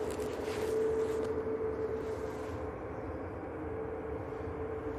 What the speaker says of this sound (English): got Ryanair 738 off to Lanzarote